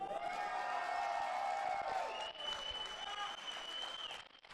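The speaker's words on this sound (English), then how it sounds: "for those of you guys who are cheering for Team Newbie, give them some noise" An audience at a DOTA2 esports world championship semi-final applauds and cheers for a team, giving a faint, steady wash of clapping and crowd noise that fades out at the end.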